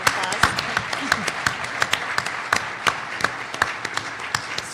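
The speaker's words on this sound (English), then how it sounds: "And give yourselves a round of applause." Scattered applause from a conference audience rises as standing attendees are acknowledged, with uneven individual claps rather than a dense roar.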